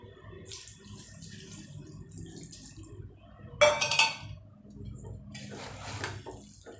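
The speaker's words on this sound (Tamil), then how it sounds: "நான் இவ்வளோவில் தண்ணி ஊற்றுறேன்." Water is poured into a small bowl while cooking chicken kulambu, a short splashing gush in the middle after quieter kitchen clatter, followed by a softer trickle.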